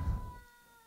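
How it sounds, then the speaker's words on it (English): A house cat gives one short, close meow, loud at first and then fading into a faint tonal hum in the room. "that's my cat"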